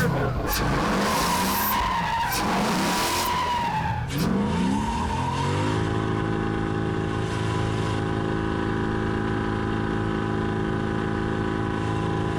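A BMW E36 drift car spins donuts, its tires screeching loudly and continuously while the engine revs rise and fall, then settle into a steady high drone as the skid continues close by.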